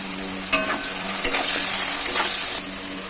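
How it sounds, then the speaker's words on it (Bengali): Chopped potatoes tossed in a pan with salt and turmeric, a steady sizzle of frying under a few scraping stirs of a spatula, close and fairly loud with no voices. "আলু দেওয়ার পর সবটা একটু নেড়ে চেড়ে নিয়ে তাতে পরিমাণ মতো লবণ আর সামান্য একটু হলুদ"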